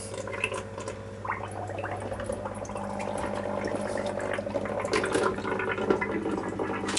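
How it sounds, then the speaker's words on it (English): An air bubbler gurgles steadily in a copper chloride solution used for recovering gold from gold-plated ribbon wire, a continuous close bubbling and fizzing over a low hum, with no talking. "you can see it's bubbling away. You can hear it"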